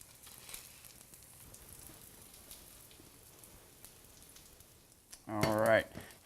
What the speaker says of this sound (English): now we're ready to begin cooking our salmon patties